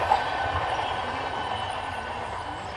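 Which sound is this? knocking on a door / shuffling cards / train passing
train passing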